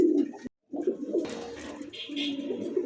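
Pairs of fancy pigeons kept for sale in Bangladesh, including dobash and tiger golla birds, coo in low, throaty rolls nearby. A brief silent gap comes early, and faint background murmur follows.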